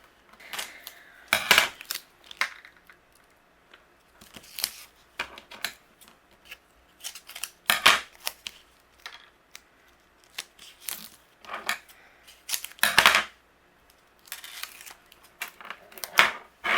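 Scissors trimming paper pieces for a card, with a series of short, sharp snips and crisp paper rustles coming in irregular bursts, close and fairly loud, separated by quiet gaps.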